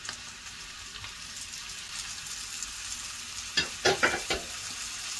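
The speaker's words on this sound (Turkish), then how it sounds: "Beraberce kavuruyoruz." Onion, pepper, tomato paste, salt and herbs are sautéed together in a pan. A soft, steady sizzle runs throughout, and a few quick scraping stirs come near the end, with no voices.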